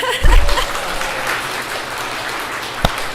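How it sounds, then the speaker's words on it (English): An audience gives a short burst of clapping that settles into light, scattered applause, with a sharp single clap near the end. "I think that clap is a little weak for her."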